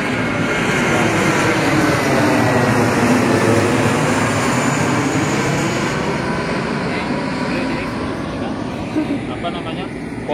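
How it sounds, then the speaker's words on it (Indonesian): A Citilink passenger airplane passes overhead, a loud, steady broadband roar that fills the whole stretch and eases slightly toward the end. "pesawat Citylink."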